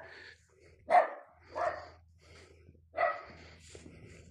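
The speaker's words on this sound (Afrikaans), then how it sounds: "as jy kan hoor, daar's hondjies op blaf." A dog barks three times at a distance, spaced irregularly, with quiet background noise between.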